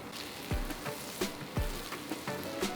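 Butter and a splash of avocado oil sizzle in a hot pan, a steady close crackle with scattered pops and a few sharper spits.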